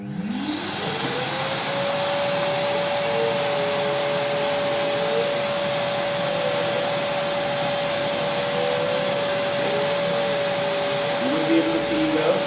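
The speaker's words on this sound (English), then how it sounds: "Let's start our vacuum cleaning." A wet-and-dry vacuum cleaner spins up and then runs with a loud, steady whine and roar that continues unbroken.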